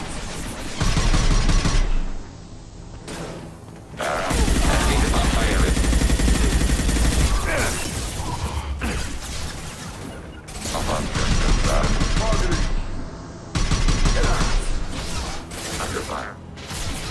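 Gunfire in Mass Effect Legendary Edition: loud sustained bursts of rapid weapon fire in several waves with short pauses between them, mixed with mechanical clatter and occasional combat voices.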